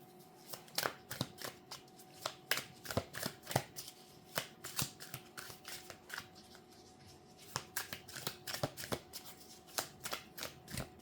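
Tarot cards shuffled over and over in a quiet room, giving crisp, close riffling bursts and flicks in an uneven rhythm, with no talking.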